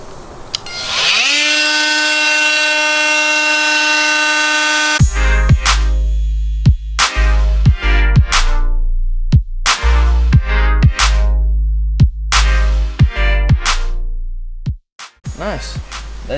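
A cordless drill whirs at a steady high pitch, then a series of loud, rhythmic clacking bursts repeats rapidly, close to the microphone.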